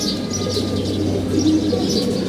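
Pigeons in a loft coo softly and repeatedly close by, layered over a steady low background hum.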